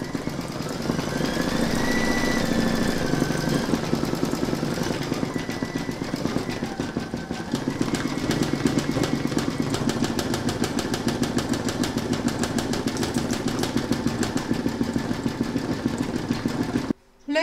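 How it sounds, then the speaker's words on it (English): An embroidery machine stitches a red leaf base for an in-the-hoop poinsettia bunting, giving a fast steady mechanical rattle with rapid repetitive needle beats that continue nearly unbroken before stopping at the end. "Load your thread colour for the red leaf base into your machine, and then you're going to stitch round number 8."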